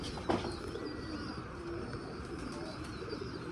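A blood-red golden pigeon coos softly nearby with a low, rolling call, while a faint bird chirp and quiet background rustle run underneath.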